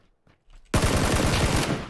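After a few faint taps, sudden loud automatic rifle fire from the battle royale game PUBG rips out in a rapid, sustained burst of close shots that continues to the end.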